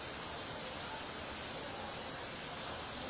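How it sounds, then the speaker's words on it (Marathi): Rain falls in Nagpur after a spell of cloudy weather, a steady, even wash of fine hiss with no distinct drops, continuous and fairly soft. "चक्क पाऊस जो आहे तो पडतोय"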